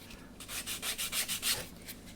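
A small wooden ship model part for an HM Sherbourne build is sanded to a chamfer in short, rhythmic back-and-forth rasping strokes, close and clear, with no talking.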